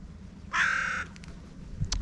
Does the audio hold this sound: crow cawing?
yes